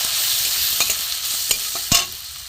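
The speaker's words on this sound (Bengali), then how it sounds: "দিয়ে আমি মশলাটাকে কষিয়ে নেবো" Cumin, coriander, black pepper, turmeric and garam masala powders sizzle steadily in a hot pan as a spatula scrapes and stirs, with a few sharp clinks cutting through the constant frying hiss.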